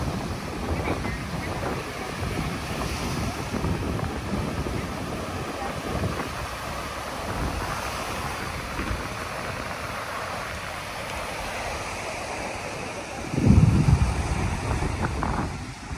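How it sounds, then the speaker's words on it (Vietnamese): Strong sea waves on a beach at Ha Tien at sunrise, a steady roar of surf with heavy wind buffeting the microphone throughout, and a louder gust or wave surge near the end. "Sóng mạnh quá, biển sáng sớm mình sóng quá to luôn."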